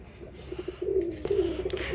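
Pigeons coo in a nest where eggs are being tended, giving a low, soft, throaty cooing that repeats steadily and rises slightly in loudness, close by with no talking.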